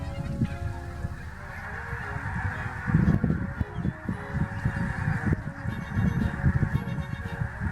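Canada geese honk repeatedly in an open field, a dense flock calling continuously at close to moderate range, with overlapping loud honks and no talk.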